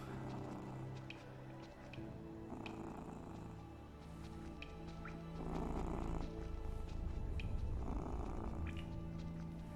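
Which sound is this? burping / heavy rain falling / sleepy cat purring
sleepy cat purring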